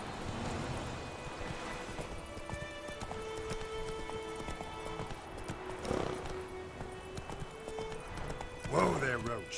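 Roach the horse galloping in The Witcher 3, soft quick clip-clop hoofbeats close by, with a brief whinny and a voice talking over the game sounds.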